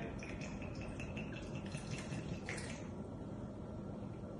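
Gin free-poured into a jug for a blackberry sorbet, a soft continuous trickle of liquid lasting a few seconds, faint and close with a gurgling stream that tapers off.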